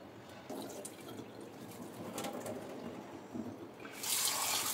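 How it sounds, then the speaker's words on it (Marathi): Boiled eggs are lifted out of hot water and set into a bowl of normal water, with faint sloshing and small drips that end in a louder, close splash. "आता हे उकडलेलं अंड आपल्याला गरम पाण्यातून काढून नॉर्मल पाण्यात ठेवायचं आहे"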